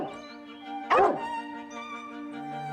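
A dog in a children's cartoon gives a single short, bright bark-yip in the middle, sitting over a gentle, steady musical bed with no voices.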